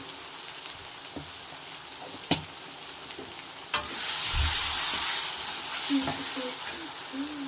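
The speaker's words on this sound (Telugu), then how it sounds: "చూడండి అల్లం వెల్లుల్లి పేస్ట్ కూడా బాగా వేగిపోయింది ఇప్పుడు దీంట్లోకి కొద్దిగా పసుపు యాడ్ చేద్దాం" Ginger garlic paste frying in a pan as turmeric goes in, a steady sizzle that swells midway, with a few spoon taps and stirring clinks.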